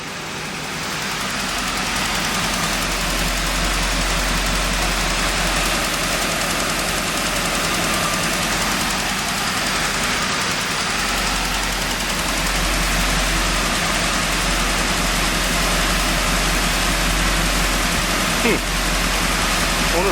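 A 1989 Trans Am runs hard in a burnout, its engine roaring loud and sustained with a hissing, rushing texture over a deep low rumble, continuous for the whole stretch.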